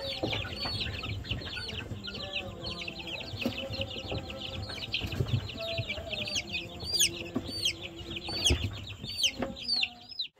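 Chickens and chicks on a poultry farm fill the air with near, continuous high peeping and chirping over softer clucks, with occasional wing flaps and a faint voice in the background.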